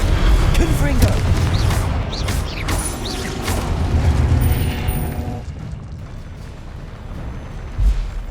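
Confringo blasting spells burst and boom amid clattering spellcasting combat in the video game Hogwarts Legacy, a dense run of loud impacts that thins into a quieter rumbling ambience, with one more thump near the end.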